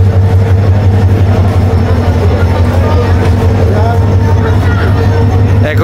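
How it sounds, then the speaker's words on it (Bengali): A passenger train on the Chittagong to Sylhet route pulls into a station with a loud, steady low engine rumble and rolling rail noise, heard close, and a crowd murmurs in the background. "এইমাত্র আমাদের ট্রেন এসে কম্পার্টমেন্টে ঢুকছে।"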